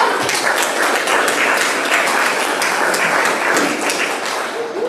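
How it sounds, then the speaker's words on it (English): An audience at a 70th anniversary celebration applauds for board member Charlie, producing dense, steady clapping that fills the whole stretch at fairly close range. "So if we give Charlie a round of applause."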